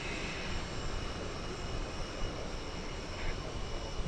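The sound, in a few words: airplane arriving at DFW Airport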